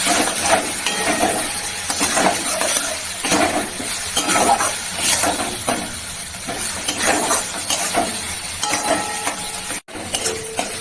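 Boiled jackfruit cooking in a pan with spices, fried meat-style, as a spoon stirs and scrapes it in repeated strokes over a constant sizzle, with occasional clinks of utensil on metal, close and fairly loud, no talking.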